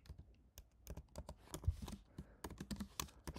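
Rapid, uneven clicking of a computer keyboard as SQL code is typed, close and fairly quiet, with short bursts of keystrokes and brief pauses between words.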